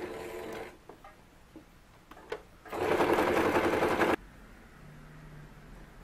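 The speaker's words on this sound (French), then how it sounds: "je vais faire un surfilage ici sur le bord de mon tissu. Donc le point zigzag, une fois sur mon tissu" A sewing machine stitches a zigzag overcast along a fabric edge in a steady, close mechanical whirr lasting over a second, with short quieter runs and clicks before it.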